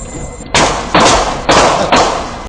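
A car collision on Roxas Boulevard in Pasay, heard as four loud, heavy thuds at close range spaced roughly half a second apart, with the first impact preceded by faint background noise.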